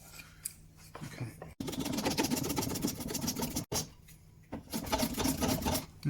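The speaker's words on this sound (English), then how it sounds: "Now it sounds all rattly and horrible because I'm going over bandsawn" A grinder runs over a bandsawn edge of a stained glass frame, giving a harsh, rattly, continuous grinding noise up close, with two short breaks where contact stops.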